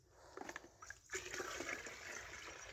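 Water pours and splashes into a container while a cane-field drench solution is measured and mixed outdoors, a steady gushing stream after some scattered splashes.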